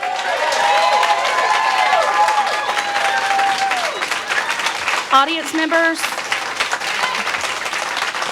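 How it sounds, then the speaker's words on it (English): Audience applause at a school board meeting fills the room, sustained clapping mixed with a few cheers, then tapering as a speaker talks over it. "please hold your applause during each speaker"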